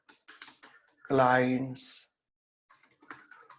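Light keyboard clicks from typing at a computer during a graphic design workshop, a few soft scattered taps at the start and end around a burst of speech.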